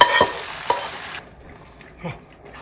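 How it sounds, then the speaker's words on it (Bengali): A spoon stirs a vegetable curry in a pan just after tempering. Loud frying hiss comes first with a couple of utensil knocks, then it drops to a quieter sizzle with one more scrape near the end. "আমি এটাকে একটু বাগারটা দিয়ে একটু নেড়ে চেড়ে নিচ্ছি"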